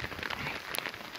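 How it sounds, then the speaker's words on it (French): Steady patter of heavy rain with scattered sharp ticks of hailstones striking surfaces during a thunderstorm on the banks of the Loire, close by and continuous with no talking. "Averse, orage, oh désespoir, c'est de la grêle."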